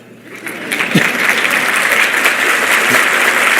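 A church congregation applauds in a loud, sustained wash of clapping that swells quickly and stays full throughout.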